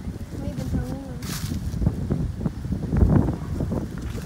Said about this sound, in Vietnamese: Từ đây gió quá trời vậy ta.